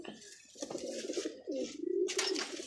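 Several domestic pigeons coo close by in a loft of kept breeding birds, soft rolling calls that repeat and swell, with faint background noise and no talk.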